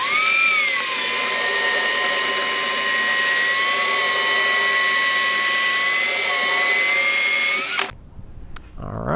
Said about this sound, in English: we want to drill it 3 times from the inside and then 3 times from the outside